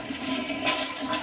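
A toilet flushing indoors, set off by a cat, a steady close rush of running water that lasts throughout without any voices.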